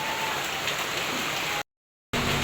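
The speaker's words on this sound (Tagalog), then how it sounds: "Malakas na po ulit ang ulan." Heavy rain pours in a continuous dense hiss on surfaces during rainy weather outdoors, briefly cut to silence before resuming.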